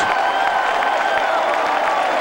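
A stadium crowd at the 1994 IHSA boys track and field state finals, a steady wash of applause and cheering throughout, loud and dense, with a commentator's voice faintly underneath.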